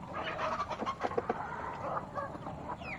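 A young crossbred hen that has not yet laid eggs clucks in a short run of soft, repeated calls, close by and without talk.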